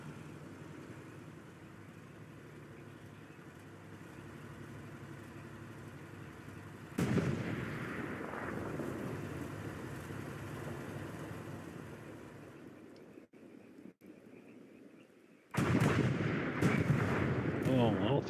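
Sherman tank cannon fire in the World War II shooter Hell Let Loose, a loud near blast followed by a long rumbling tail over a low engine drone, with a second heavy shot near the end.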